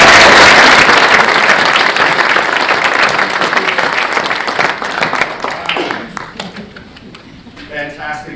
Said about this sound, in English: Fantastic job. Give them all one more round of applause.